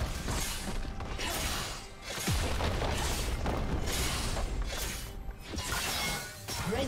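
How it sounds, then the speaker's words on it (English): Crumbling thuds and crashes from a turret being destroyed in League of Legends, with repeated heavy impacts and rumbling debris in pulses, loud and dense. "Red team's turret has been destroyed."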